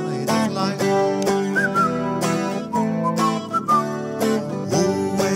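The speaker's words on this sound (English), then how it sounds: "just purse your lips and whistle, that's the thing" A person whistles a cheerful tune, short melodic whistled notes running through a loud, busy musical passage with repeated strong beats.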